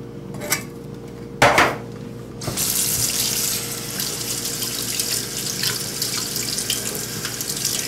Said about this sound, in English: I'm going to rinse this whole thing off